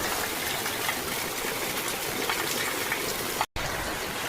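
Steady evening rain pours down in a dense, even hiss that fills the whole stretch, close and fairly loud, broken by a brief dropout near the end before the same rainfall resumes.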